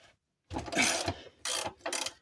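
A ratchet wrench loosening a bolt on the anti-torque engine mount of a Peugeot 205 GTI, heard as three close, loud bursts of rapid metallic clicking separated by short pauses, with no voices.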